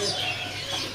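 Birds chirp and call at a bird seller's kiosk in an Indonesian market, where seawater teledekan birds are sold, short tweets rising over a steady background hum in a brief moment.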